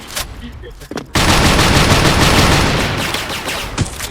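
Rapid automatic gunfire in the online shooter Special Force, a sustained loud burst of dense shots after a few scattered sounds and brief voices, continuing for about three seconds.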